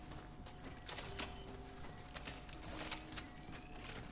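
Arbalest crossbow being reloaded in the survival horror game Cronos: The New Dawn, with a run of close mechanical clicks, ratcheting and creaking over a steady low ambient hum, no voices.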